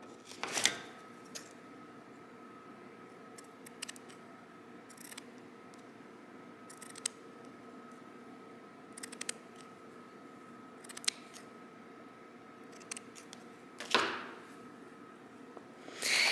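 Scissors snip through fabric along a scalloped edge for a Simplicity S3085 sewing pattern, giving scattered short cuts and clusters of snips, fairly close and quiet, with no talking.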